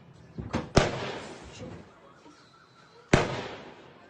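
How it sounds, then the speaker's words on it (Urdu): Snipers firing from rooftops produce sharp cracks: a couple of quick shots, then a loud report with a trailing rumble, and another loud crack about two seconds later, all echoing outdoors. "یہ گولیاں مار رہے ہیں"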